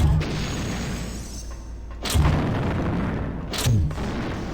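Heavy booming blasts from grenade explosions in the video game System Shock 2, two loud thuds over a dense, rumbling roar, with no voices.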